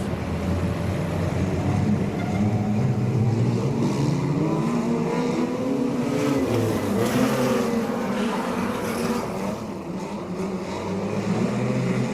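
Wingless sprint cars race around Laang Speedway in a heat, their engines a steady, loud roar that swells and fades as the pack circles the track, with crowd and track ambience underneath.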